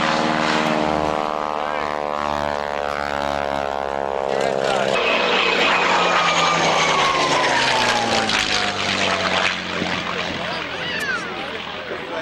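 A WWII propeller aircraft flies past at an airshow, its steady engine drone shifting in pitch as it passes. An announcer talks over the engine throughout.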